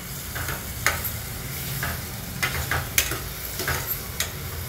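Chopped onion fries in a pan for paneer bhurji masala, a steady close sizzle broken by several scraping, clicking strokes of a spoon stirring it.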